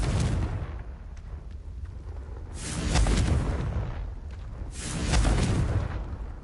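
Confringo explosive spell blasts in the Hogwarts Legacy video game, two heavy booming bursts roughly two seconds apart over a continuous rumbling, crackling background, loud and close with no talk.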